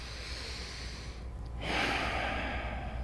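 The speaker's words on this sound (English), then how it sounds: "that was 1 breath cycle" One slow, relaxed breath taken close up: a soft airy inhale, a short pause, then a longer, fuller exhale.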